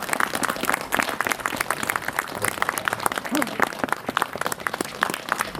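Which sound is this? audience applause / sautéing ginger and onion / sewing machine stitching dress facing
audience applause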